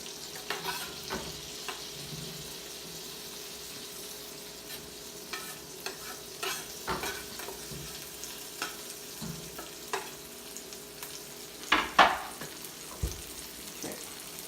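Butter sizzles steadily in a pan on a stove at medium heat, a soft continuous frying hiss broken by occasional clicks and scrapes of stirring, with no talking.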